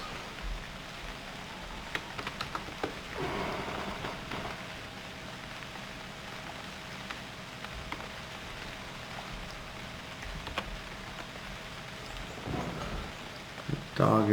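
Steady rain falls in the survival game UnReal World, a constant soft hiss of drops with occasional low rumbles, fairly faint throughout.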